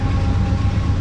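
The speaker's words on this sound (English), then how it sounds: "Train." A train passing near a roadside stop on a hot-weather cycling trip through the Rocky Mountains in Canada, heard as a steady, loud low rumble that fills the whole second without a break.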